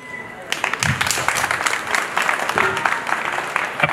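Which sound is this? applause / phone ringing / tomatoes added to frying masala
applause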